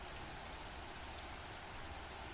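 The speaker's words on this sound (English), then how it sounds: "the only sound that could be heard belonged to the light drizzle outside" Light drizzle falls outside in the MAMIYA video game, a faint, steady hiss of rain pattering without a break and with no voices over it.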